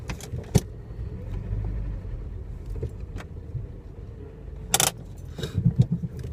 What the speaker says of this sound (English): This is a huge piece of farm machinery trying to turn around me